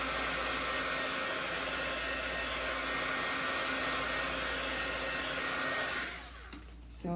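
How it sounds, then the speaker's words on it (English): A heat tool blows hot air over a chalk craft project to dry it, a steady close whooshing hum that runs for about six seconds before cutting off. "So I'm just going to use my heat tool here to give this a quick blast."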